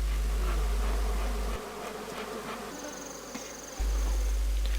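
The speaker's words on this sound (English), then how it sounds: "The bees are brushed off and the fully sealed comb can be harvested." Honey bees buzz loudly and continuously during a comb harvest at a Zambian apiary, a dense insect drone close by with a low hum underneath that drops briefly and returns.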